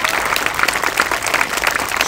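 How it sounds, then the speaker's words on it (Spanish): A crowd at a live clown comedy show applauds loudly in a brief continuous burst with no talk over it. "Dale un fuerte aplauso para él."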